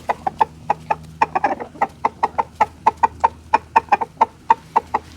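Chickens cluck in a steady series of short, sharp calls, close by and fairly loud, with a brief flurry of overlapping clucks near the start.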